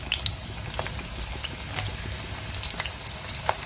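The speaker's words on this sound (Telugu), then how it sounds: "నూనె వేడైన తర్వాత ఒక ఉల్లిగడ్డ, పెద్ద సైజు ఉల్లిగడ్డ కట్ చేసుకొని వేసుకోవాలి." Chopped large onion frying in hot oil, a steady crackling sizzle with scattered sharp pops and soft stirring knocks, close and moderately loud with no voices.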